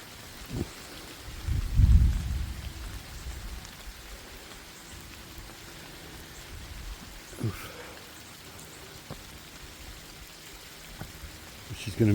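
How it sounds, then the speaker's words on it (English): Rain falling through trees outdoors, a steady soft hiss of drops with a few louder low rumbles and thumps, fairly faint and continuous with no talking. "You can hear the raindrops coming down through the trees."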